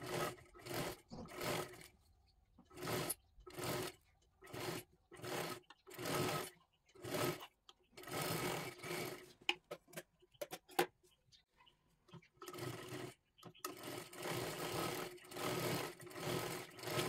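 Sewing machine double-stitching lace in a round shape onto a princess-cut blouse, running in repeated short bursts of rapid mechanical stitching separated by brief pauses, close and fairly loud throughout.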